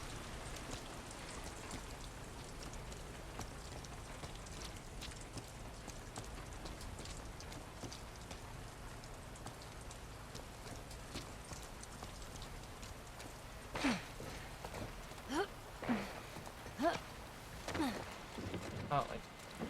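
Light drizzle in the video game The Last of Us Part II, a steady soft patter running through the whole stretch, with a few louder bursts of game sound toward the end.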